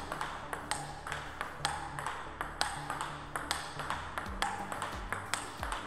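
Table tennis rally hit with a red Hybrid MK rubber on the paddle, a steady run of crisp, close ball pings off bat and table in even back-and-forth rhythm, with faint background hum and no talking.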